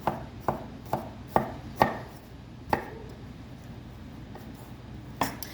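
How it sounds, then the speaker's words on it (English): A knife chops sausages on a cutting board, with several sharp, uneven taps followed by a pause and one more tap. "So I have 2 sausages that I'm chopping up."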